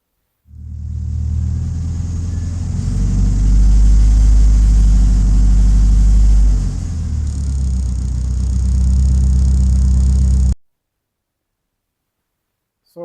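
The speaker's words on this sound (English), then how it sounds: "So the ticking started when I had the car running at optimum temperature." A Saab 9-5 Aero engine with a ticking fault runs loudly up close at operating temperature with a steady low rumble, swelling briefly before settling back, then cuts off abruptly into silence.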